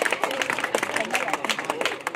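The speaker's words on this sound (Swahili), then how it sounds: "Mnipiga makofi nyinyi mnipiga." A church congregation claps their hands in fast, uneven bursts, with voices and murmuring crowd noise mixed in throughout.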